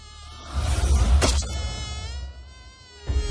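Mosquito buzzing in an animated Hindi Ramayan film: a close, steady, whining drone holding for a few seconds, with a sharp swell midway and a short burst near the end, with no speech.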